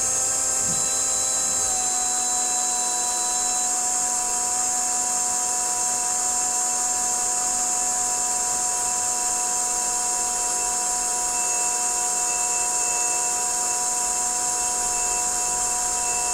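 An electric car fuel pump runs with the ignition switched on, giving a loud, steady, high-pitched whine that holds without change throughout, with no voices.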